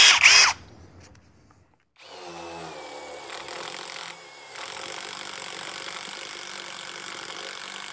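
Impact driver boring with a carbide-tipped masonry bit at its highest power setting, a loud sustained whining grind with rattling hammer texture that starts after a brief pause and intensifies partway through, with no talking.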